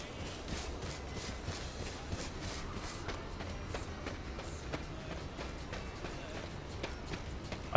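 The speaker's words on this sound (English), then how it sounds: "I thought I heard someone else's footstep out here." Footsteps patter in a video game, a steady run of soft repeated thuds over a dense background wash, continuous and moderately loud without talk.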